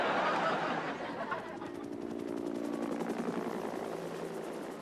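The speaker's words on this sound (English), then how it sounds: "There goes Don Trump's helicopter." A steady rotor-like drone of a helicopter fills the scene, with a faint rhythmic chop and some murmuring voices and soft laughter underneath.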